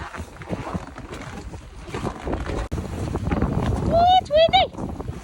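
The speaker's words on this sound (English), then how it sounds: "It's so windy. So It's just howling." Gusty wind buffeting outside a rustic winter cabin on Little Presque Isle, a rough rushing roar hitting the microphone, with a person talking over it and a squeaky, whistling sound rising near the end.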